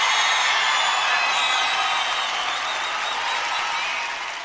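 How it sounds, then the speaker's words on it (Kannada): A large crowd at a fan celebration event in Mysore applauds loudly and steadily after a film director is introduced, the dense clapping sustained throughout and tapering slightly at the end. "ಒಂದು ದೊಡ್ಡ ಚಪ್ಪಾಳೆ"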